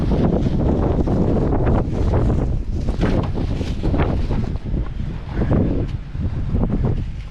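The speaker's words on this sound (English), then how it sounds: "I have no clue why it's so windy." Strong wind buffets the microphone in loud, rumbling gusts that barely let up, with faint rustling mixed in.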